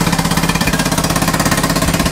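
A Vespa Matic scooter fitted with a two-stroke style exhaust idles nearby with a rapid, even, buzzing throb and no voices.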